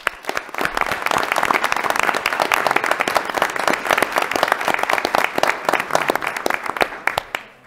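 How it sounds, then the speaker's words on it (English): Audience at a city council meeting applauding a girls' championship team: loud, sustained clapping from a roomful of people with crisp individual claps audible, holding steady for several seconds before tapering off at the end. "one big round of applause for these girls"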